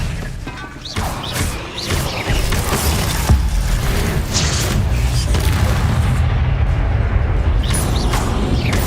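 Booming crashes and blasts from Incendio and Expelliarmus spells in Hogwarts Legacy, a dense, continuous barrage of impacts and rumbling thuds with no clear pauses.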